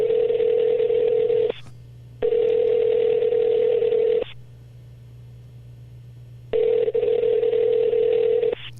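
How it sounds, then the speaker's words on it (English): A telephone dial tone sounds in three loud, steady bursts separated by short silences, with a low hum underneath and no voices. "Answer the phone."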